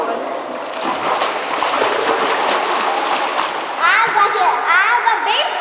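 Water splashing as someone swims in deep water, steady close splashes throughout while children and adults talk over it.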